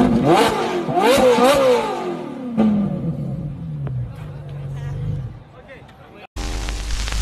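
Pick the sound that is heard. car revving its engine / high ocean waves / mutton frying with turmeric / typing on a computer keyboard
car revving its engine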